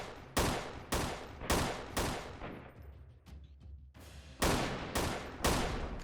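Submachine gun fire in the PC game Freeman: Guerrilla Warfare, a series of sharp, loud bursts at roughly even intervals with a brief quieter gap midway, no speech.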